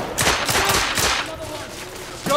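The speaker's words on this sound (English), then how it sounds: "Who's shooting me?" Bursts of gunfire from the video game The Order: 1886, several rapid shots cracking in quick succession over the first second, then tapering into quieter reports and echoes.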